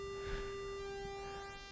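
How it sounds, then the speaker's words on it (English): A Roland Juno-106 synthesizer sounding a sustained pulse wave, a steady buzzy tone with a stack of even harmonics, held continuously at moderate level with no talk. "pulse wave that sounds like this."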